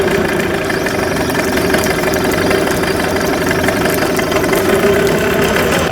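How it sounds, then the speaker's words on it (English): A Yamaha 9.9 hp outboard motor runs steadily in a bucket of water during a service, a loud, constant mid-pitched engine drone with a knocking rattle that holds even and unbroken throughout. "I have the engine in a bucket in order to start it up to make sure that the impeller is working properly"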